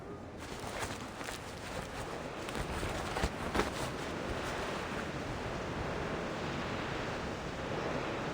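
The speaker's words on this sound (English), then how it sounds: "What with this wind, eh? Where's it coming from?" Wind gusting in the Reverse: 1999 video game, a steady broadband roar like surf with no pause, fairly loud and constant throughout.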